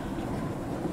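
A train in the video game Crab Game, a steady low rumble of rolling rail cars with a faint rhythmic clatter, continuous and fairly close for a brief moment.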